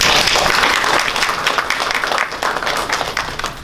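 A live audience breaks into a round of applause at a talk on food and health, dense clapping loud and sustained from the start, then easing slightly while staying steady throughout.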